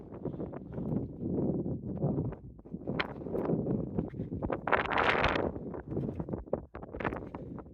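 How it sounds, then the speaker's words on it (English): Gusty breeze on an open ridge buffets the microphone in uneven rushing waves, loud and close, with no one speaking. "breezy up here, but it's nice"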